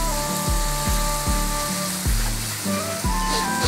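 Bacon strips sizzling in a hot pan, a loud close hiss with rhythmic thumping pulses underneath, continuous and without voices.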